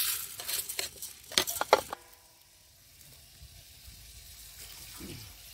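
A pan sizzles and clatters as dal is stirred in with coriander, bursts of scraping and spattering for about two seconds, then fading to a quiet low simmer.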